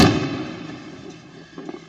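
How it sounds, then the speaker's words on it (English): Plastic retaining clips on an Audi A3 8V door panel pop loose during removal: a sharp, loud crack at the start, then a short string of smaller snaps and clicks near the end, close up and with no talk. "I left some clips still so you can hear the noise it makes."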